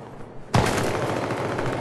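A burst of automatic gunfire erupts suddenly in the video game Syndicate and continues as a loud, sustained rattle of rapid shots.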